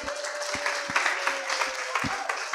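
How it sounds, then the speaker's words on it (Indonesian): A group of students at a Christian student leadership camp claps for their group, a few close, sharp hand claps in a loose rhythm over a busy murmur of voices in the room. "mari berikan tepuk tangan"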